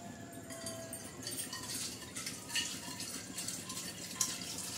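Water poured into a pot of simple home-style biryani during cooking, a soft continuous splashing trickle with faint drips, quiet and close.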